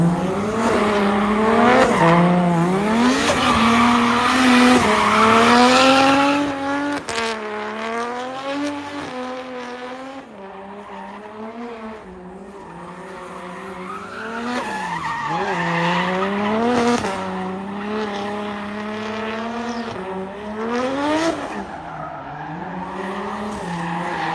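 Tires squeal continuously as a V8 supercharged Nissan 200SX drifts, the pitch sliding up and down over a roaring engine, loud and close throughout.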